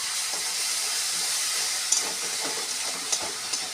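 Spices with turmeric, salt and sugar are stirred in a hot pan for a stuffed-eggplant filling, giving a steady, close hiss of sizzling oil with a few soft scrapes of the spoon.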